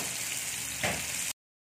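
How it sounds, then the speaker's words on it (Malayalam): Thin, small slices of elephant foot yam fry in oil in a fry pan, making a close, steady hiss with a brief louder surge before the sound cuts off abruptly. "ഇതിലേക്ക് നമുക്ക് ചേന ഇട്ടിട്ട് വേഗം അങ്ങ് ഫ്രൈ ചെയ്തെടുക്കാം."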